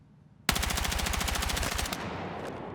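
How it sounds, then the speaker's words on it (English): Rapid automatic gunfire bursts from a weapon fired mid-jump in the first-person shooter Battlefield 4, a dense, close, evenly spaced stream of shots lasting about a second and a half before a short ringing tail. "I'm going to shoot my gun and I'm going to jump"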